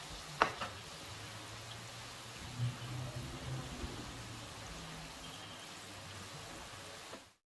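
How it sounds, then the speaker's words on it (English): Potatoes frying in a pan over a medium flame give a soft, even sizzling hiss that runs steadily throughout, with a few faint clicks near the start and no voices. "We will fry these on a medium flame so it can become crispy."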